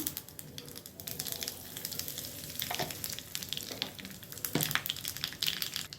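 Mustard seeds, cumin and asafoetida crackle and sizzle in hot oil as a tempering for Karnataka-style dal rasam, with steady close frying and a few sharper pops and stirs.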